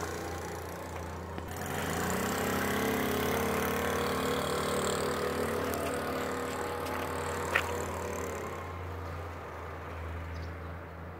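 A 1968 Honda PC50 49cc moped starts up and rides off, its small engine buzzing steadily and then fading gradually into the distance over outdoor background noise.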